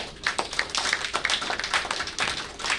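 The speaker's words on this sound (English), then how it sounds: "Big round of applause." A crowd at a village development conference workshop claps steadily in a scattered burst of applause, fairly close and lively, with no talking.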